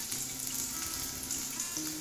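Shallots and garlic sauté in oil in a pan for a peanut chutney, giving a steady, low, continuous sizzle with a few faint tonal hums underneath and no talk.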